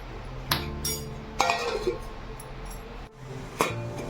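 A metal lid clinks on a cooking pot while pumpkin stew simmers: several sharp, close metallic clinks and a scraping rattle, spaced irregularly over a low kitchen hum, with no speech.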